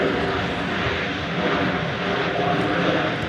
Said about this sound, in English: An Airbus A321.